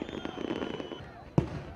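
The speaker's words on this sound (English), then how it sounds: "fireworks erupted in the skies" Fireworks burst over Martyrs Square in Tripoli during a nighttime anniversary celebration: a steady crackle and rumble under crowd voices, then one sharp, loud bang near the end followed by more popping.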